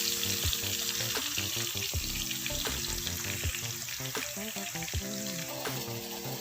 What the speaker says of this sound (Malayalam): ഇനി നമുക്ക് ഒരു പാനിൽ എണ്ണ ഒഴിച്ച് ചൂടാകുമ്പോൾ നമ്മൾ അരച്ച് വെച്ചിരിക്കുന്ന ആ അരപ്പ് ഇതിലേക്ക് ഇട്ട് കൊടുക്കാം.